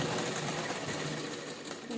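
A sewing machine stitches along a folded square of blouse fabric, a continuous close whirring hum of the needle running steadily for the whole stretch.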